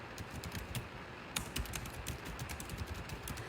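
Quiet, close keystrokes tap out in uneven clusters on a computer keyboard, with brief pauses between runs of clicks.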